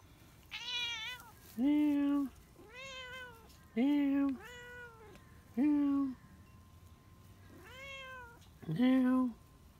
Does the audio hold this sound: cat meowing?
yes